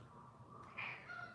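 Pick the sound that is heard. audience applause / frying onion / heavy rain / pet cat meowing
pet cat meowing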